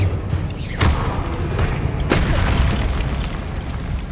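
A Bombarda spell blast in Hogwarts Legacy: a heavy booming explosion with a sharp onset, followed by a few thuds and a rumbling tail over continuous game ambience.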